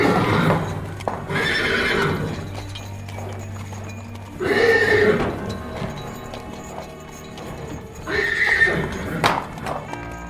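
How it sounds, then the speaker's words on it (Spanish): Horses snort and neigh in a radio drama scene, with three loud whinnies rising over a steady low rumble and clip-clop of hooves, spaced a few seconds apart. "los caballos comenzaron a resoplar y a relinchar."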